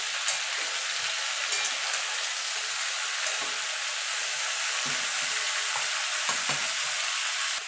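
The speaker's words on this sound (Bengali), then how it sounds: "নুনটা দিয়ে আবার একটু নাড়াচাড়া করে দেবো" Mixed vegetables sprinkled with salt are stirred in a hot pan, producing a soft, continuous sizzle with intermittent scraping of the spoon, fairly quiet and close.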